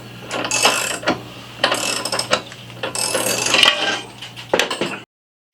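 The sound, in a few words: jack raising the motorcycle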